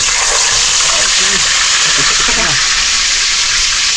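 Hot cooking oil sizzling and spattering loudly and steadily while chicken balls fry, a continuous hiss with crackling pops and a voice speaking briefly under it.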